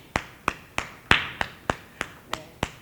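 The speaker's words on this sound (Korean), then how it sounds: "박수." A single person clapping by hand in a studio: nine sharp, evenly spaced claps, close and clear, with no talking over them.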